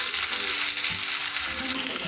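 Green chillies and ginger fry in a pan for mocha chop (banana flower croquettes), a close, continuous hiss of sizzling oil with faint scraping, short and steady, no talking.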